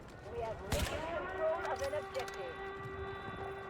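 Gunfire in a PUBG-style shooter video game: one loud, sharp shot near the start, then a few fainter cracks over steady game alert tones.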